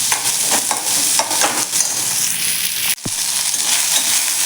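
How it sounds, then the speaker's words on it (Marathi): Onion fries in a little oil in a kadhai, a close, steady crackling sizzle with scraping stir strokes and one brief pause before the sizzling resumes. "याच कढईमध्ये आपल्याला अगदी थोडंसं तेल घालून घ्यायचं आहे आणि त्यामध्ये आपल्याला हा कांदा घालून घ्यायचा आहे"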